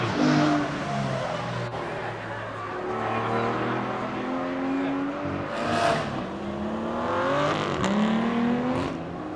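An Aston Martin CC100 concept car drives at Goodwood, its engine note rising and falling through several gear changes with steady road roar, fairly close and continuous.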